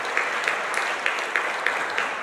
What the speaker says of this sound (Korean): 박수 해드릴게요